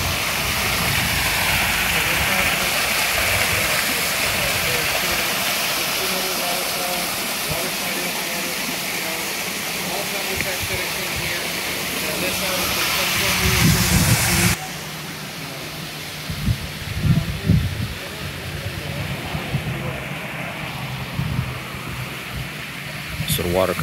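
Water from a garden water feature at a home just outside Los Angeles pours down into a grotto pond, a steady broad rushing wash that shifts and thins partway through, with voices faintly underneath.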